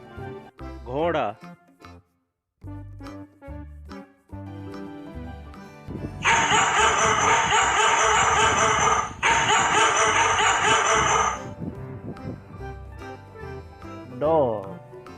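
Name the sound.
dog barking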